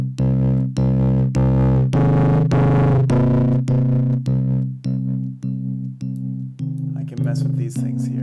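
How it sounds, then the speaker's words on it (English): Loud electric guitar with heavy distortion, strummed chords ringing out in a steady rhythm, each hit crunchy and sustained before the next. "here it's getting more distortion."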